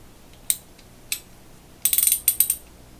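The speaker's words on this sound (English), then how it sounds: "It's a 3/8 Ratchet." A vintage Penens (Proto) 1260 3/8-inch drive ratchet gives a few isolated sharp clicks, then a quick burst of rapid ratcheting clicks, close and crisp against a quiet background.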